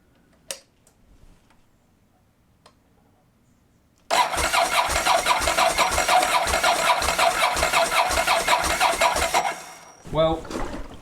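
A wrecked, written-off Ducati 999S motorcycle, rebuilt, starts after near silence. The engine catches abruptly and runs loud and close for about five seconds, then drops away, and a voice follows briefly.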